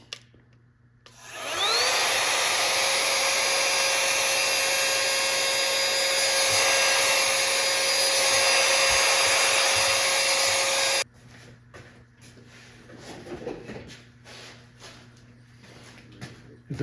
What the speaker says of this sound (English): To get rid of the excess ballast, I'm going to use this little vacuum.